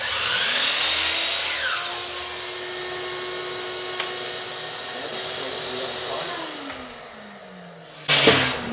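A miter saw cuts wood trim for wainscoting: its motor whines up loud through the first couple of seconds of the cut, then coasts down over several seconds, ending with a sharp clatter near the end.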